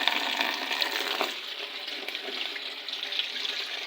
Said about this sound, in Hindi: तो इस तरीके से मैं इसको दोबारा से धो रही हूँ।